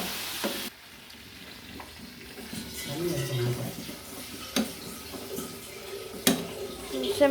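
Water is poured into a simmering curry in a pan, with stirring scrapes and soft sizzling; a few sharp clinks of a utensil near the end.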